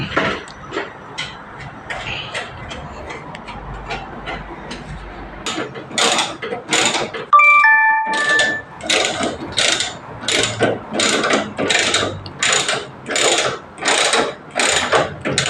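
Bolts are tightened on an electric motorcycle's wiper assembly with a ratchet wrench, first soft scattered clicks, then loud, evenly spaced bursts of rapid ratcheting after a brief metallic clink.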